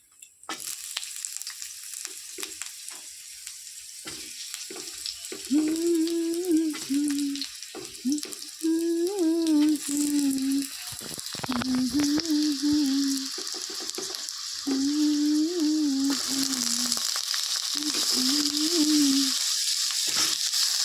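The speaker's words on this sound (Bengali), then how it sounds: "এবার এই তেলটার মধ্যে আমি প্রথমে আলুটা একটু হালকা করে ফ্রাই করে নেব" Potatoes frying in a small amount of oil in a wok: steady close sizzling with bursts of stirring and utensil scrapes, continuing throughout without speech.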